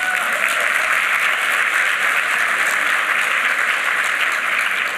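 Sustained applause from a gala audience at a 50th anniversary celebration, steady and dense with no break.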